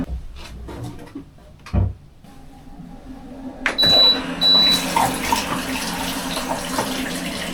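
After a few quiet knocks and clicks, a home tap is opened and water rushes out steadily and fairly close, with the boiler's hot water temperature turned down.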